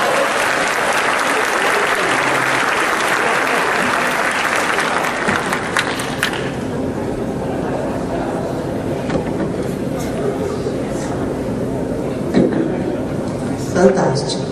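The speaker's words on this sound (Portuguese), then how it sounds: "Palmas, gente." An audience at a creativity and innovation talk breaks into sustained loud applause that gradually thins out, with scattered voices and cheers underneath.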